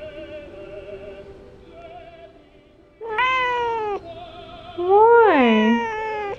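A cat meows loudly twice, the second call long and rising then falling, with a person's voice talking softly before and between the cries.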